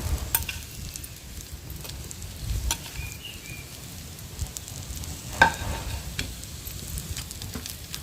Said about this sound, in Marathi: शेंगदाण्याचं कूट आणि मसाला घातल्यानंतर पण 1 मिनिटच भाजून घ्यायचं मसाला